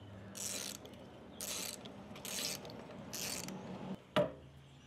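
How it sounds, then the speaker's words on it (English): A 13 mm socket wrench ratchets a motorcycle sidestand securing bolt in four short bursts of clicking, each about half a second long, followed by a sharp metallic knock near the end. "13 millimeter socket wrench again."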